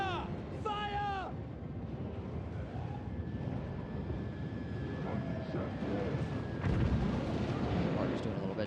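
Artillery fires in a Total War fantasy battle, with several deep booming blasts and rumbling impacts over battle noise while a voice shouts orders.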